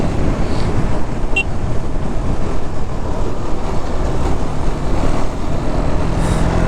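KTM Duke 390 motorcycle on a solo ride, a steady loud engine drone with heavy wind rush, continuous and close throughout, with no talking.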